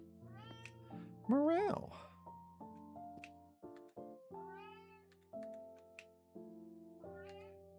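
Morale, a cat in the wine-cellar game Cellar Keeper, lets out a series of rising and falling meows over soft sustained music tones, and someone says a single word early on.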